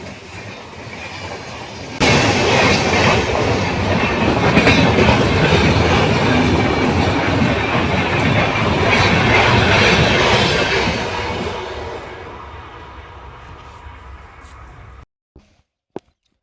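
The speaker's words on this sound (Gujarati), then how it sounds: "રેલવે સ્ટેશન જેવા આવ્યા એવી જ આવી હતી રેલગાડી" A train pulling into a railway station near a village, a loud, close, continuous rumble of wheels and carriages that swells suddenly, holds steady, then fades away, with a few faint clicks at the end.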